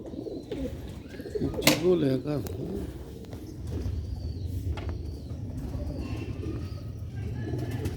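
Close red-spotted pigeons cooing in low, throaty bursts, with a brief flutter and a sharp clack early on, amid steady background chatter and room noise.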